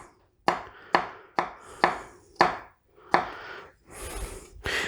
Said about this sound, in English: we're going to chop those up into small little chunks